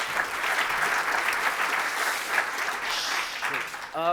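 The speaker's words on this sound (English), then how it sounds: "Round of applause for Bruno." A roomful of people at an OpenStack Foundation community session gives Bruno a round of applause, steady and fairly close. The clapping stays even throughout, and a voice begins speaking just at the end.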